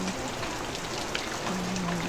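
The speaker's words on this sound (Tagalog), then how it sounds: "Umuulan." Steady rain falling on a rainy Sunday, a continuous dense hiss of drops hitting surfaces close by, fairly even in loudness with no talk.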